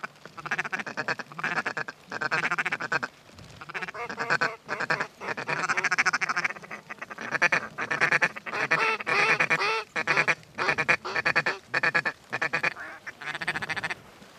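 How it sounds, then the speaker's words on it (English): Mallard ducks quack repeatedly in loud, dense bursts through a waterfowl hunt, calls clustered and overlapping with brief pauses between volleys. "Coming in. Mallard."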